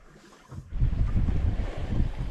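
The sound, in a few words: wind while sailing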